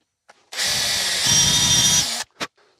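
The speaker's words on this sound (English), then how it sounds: "let's drill the next hole" A power drill whirs loudly and steadily for about two seconds, its motor pitch dropping as it bites into a clay pigeon, with brief clicks before and after.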